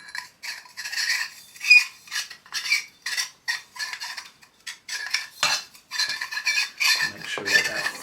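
An airsoft inner barrel is threaded into a hop-up unit, producing close, faint rasping and scraping in short repeated bursts with brief pauses between turns.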